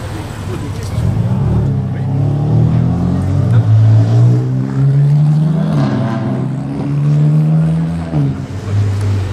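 A Porsche 918 Spyder supercar drives through Monaco streets, its engine droning loud and close with rising and falling pitch as it accelerates, while people talk over it.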